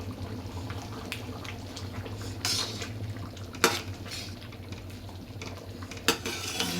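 Black chickpea masala stirred in a pan with a metal spoon, soft continuous scraping and stirring over a low background hum, broken by a few sharp clanks of the spoon against the pan.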